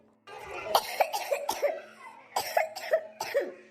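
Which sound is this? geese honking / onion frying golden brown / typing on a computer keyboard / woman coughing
woman coughing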